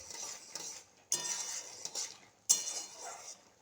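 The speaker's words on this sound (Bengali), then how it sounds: "এবার আমি নাড়িয়ে দেব।" A spoon stirs chana dal with yellow lentils and spices in a pot, making quiet scraping and clinking sounds, with two sharper clanks against the metal rim between the softer strokes.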